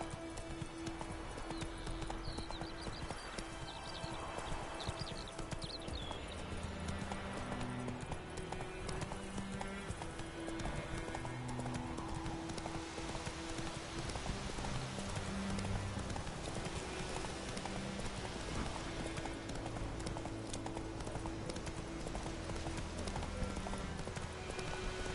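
Hooves of a horse in The Witcher 3 clip-clop in a steady, continuous rhythm under game music, with a brief neigh and little speech.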